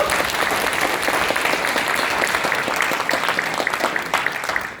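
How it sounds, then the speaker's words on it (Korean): Audience at a book launch event applauding steadily throughout, a dense wash of many hands clapping close and loud with no talk over it. "여러분 박수 한번 부탁드립니다."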